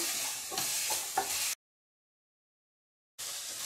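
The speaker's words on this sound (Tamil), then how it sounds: "வெங்காயம் கொஞ்ச நேரம் நல்லா வதக்கிட்டே இருங்க." Onions sizzle and scrape in a hot pan with stirring, then the sound cuts out to silence for a moment before the sizzling resumes.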